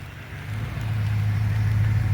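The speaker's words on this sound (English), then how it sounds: "That fucking V8 sounds like it's rumbling." A BMW 645ci E63 V8 that had not been turning over now runs, giving a steady low engine rumble up close that swells slightly in loudness and holds, with no talk over it.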